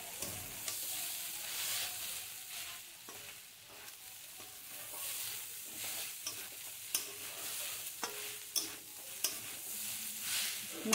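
Beetroot fry with coconut sizzling in a pan while a utensil stirs it, with a steady close frying hiss and frequent scraping strokes against the pan, no voices.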